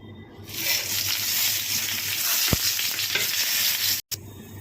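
Tempering spices sizzle in a frying pan, a steady loud hiss broken by a few stirring knocks and one brief cut near the end.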